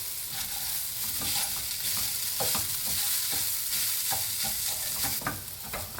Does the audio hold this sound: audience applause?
no